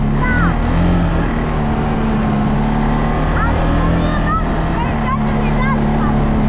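A CFMOTO 625 Touring motorcycle riding along a branch-strewn rural road, engine droning steadily and loudly up close with wind buffeting, while a rider talks over it.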